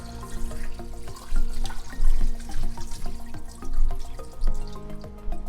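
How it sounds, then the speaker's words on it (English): Water splashes and gurgles loudly as it is poured over seasoned meat in a pot for Liberian pepper torborgee, with uneven surges and drips. "You want to add the water so it covers the meat."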